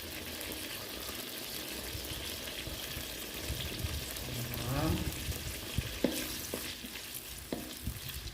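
Sago palm weevil larvae frying in hot oil with kaffir lime leaves give a steady, close sizzle and crackle, with a few light clinks and stirring sounds toward the end.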